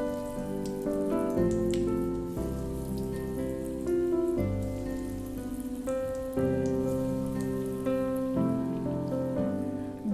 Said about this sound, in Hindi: गोल्डन फ्राई होने तक आप इन नगेट्स को तल लीजिए